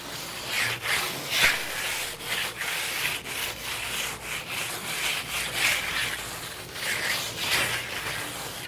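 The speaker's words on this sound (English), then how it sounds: "just take a float like this, not float the surface, and all you're actually doing is just eliminating any trowel marks" A float rubbed over a freshly troweled Dryvit Lymestone finish to knock down trowel marks, giving a steady, soft scraping rasp in repeated back-and-forth strokes, close and moderately quiet with no talk.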